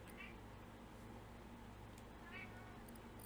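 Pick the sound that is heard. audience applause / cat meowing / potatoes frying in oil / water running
cat meowing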